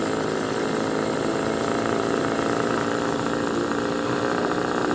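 A two-stroke outboard motor runs steadily as the boat starts to drive, a loud, continuous buzzing drone close by that holds even with no break, and no one speaks.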